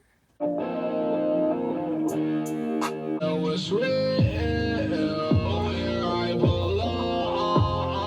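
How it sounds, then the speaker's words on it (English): An electric guitar runs through a distortion pedal, playing sustained, buzzy, heavily saturated chords and bent notes in a loud continuous stretch after a brief quiet start, with no voices over it. "someone like got their guitar, plugged it into a distortion pedal, and like did nothing else"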